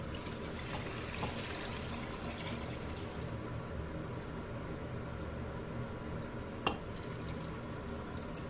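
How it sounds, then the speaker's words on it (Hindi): Curd and gram flour batter for Punjabi kadhi is poured into a pot, a soft, steady liquid pouring and trickling that runs continuously and quietly, with one brief tap near the end and no talking. "अब हम इसमें डाल देंगे हमारी मिक्सचर, दही और बेसन का जो घोल हमने बनाया था उसे हम डाल देंगे।"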